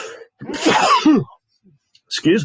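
A single sharp sneeze bursts out in a quiet room, followed shortly by a person speaking.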